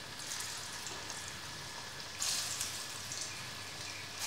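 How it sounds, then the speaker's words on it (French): Small cassava and cheese patties sizzle in shallow hot oil in a pan, a soft continuous crackling fry that swells briefly midway, quiet and with no talk. "Mon huile est chaude. Je dépose mes petites galettes de manioc."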